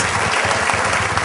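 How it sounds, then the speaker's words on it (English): A conference audience claps in a dense, loud round of applause heard up close, steady throughout the short stretch with no voices rising above it. "give him a big round of applause"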